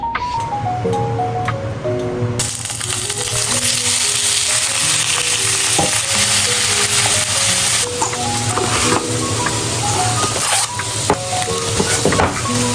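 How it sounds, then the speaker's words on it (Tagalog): Chicken and broccoli sizzle and fry in a pan for a stir fry, a loud, continuous crackling hiss throughout with background music playing over it. "lutuin na natin yung chicken at saka broccoli"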